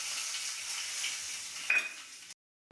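Black mustard seeds sizzle in hot oil, a faint steady hiss with a brief crackle before it cuts off abruptly into silence.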